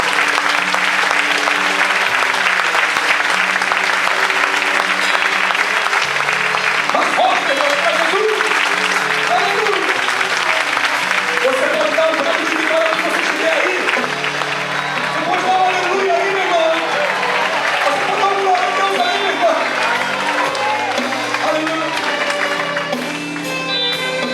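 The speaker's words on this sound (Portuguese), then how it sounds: "Você pode aplaudir bem forte, Senhor." A church congregation applauds loudly and continuously for over twenty seconds, dense clapping joined by voices and music underneath.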